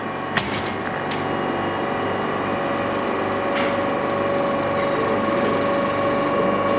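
A cold-room refrigeration compressor being restarted during a fault repair, running with a steady close mechanical hum and buzz after a brief start-up click, holding an even level throughout.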